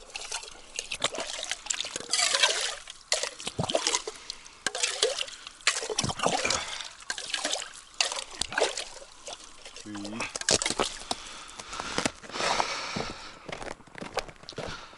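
Spring water pours and trickles into a large mug at a riverside camp on the Sysola River, an irregular splashing dribble running close and steady through the stretch, with a voice talking over it.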